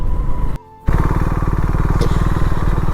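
A motorcycle engine idles loudly and steadily nearby in hill country, cutting out briefly then chugging back with a rapid, even rhythm.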